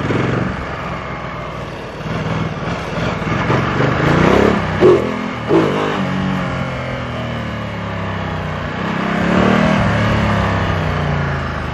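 A Ducati Multistrada 1200 Enduro motorcycle engine revving and accelerating up close, with rising and falling engine pitch and a couple of sharp throttle blips midway before it settles into a steady pull.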